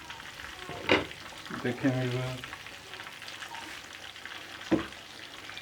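Chicken fries and steam-roasts in a covered pan, a soft, low sizzle with a few sharper crackles and pops, and a voice briefly speaks over it.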